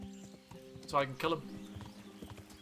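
Horse hooves clip-clopping at a steady walking rhythm in the medieval game Kingdom Come: Deliverance, heard close and quiet beneath someone talking over the top, with a brief louder vocal burst midway.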